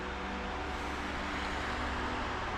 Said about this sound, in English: I still have cars going up and down here.